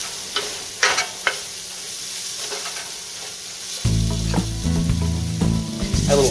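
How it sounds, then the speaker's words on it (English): Vegetables sweat and sizzle in a pan for a crawfish étouffée, with a soft steady sizzle and a few stirring clicks, then a louder, denser frying layer takes over partway through. "Right now we really just want to kind of sweat these vegetables."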